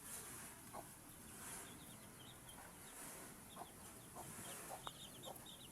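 Faint clucking from several chickens, scattered soft calls over a steady outdoor hiss on a farm, no one talking.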